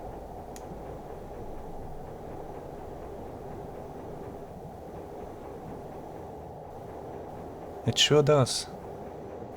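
A powerful ship engine heard over a submarine hydrophone in the Silent Hunter 3 naval game gives a steady, low, muffled rumble with a faint rhythmic churn. A short spoken reply breaks in near the end.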